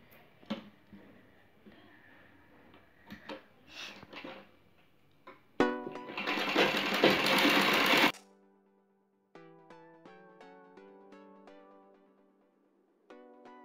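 A sewing machine stitches around the neck of a lace and patch-work blouse, running in one loud, continuous burst of a few seconds amid quieter handling sounds, with no talking.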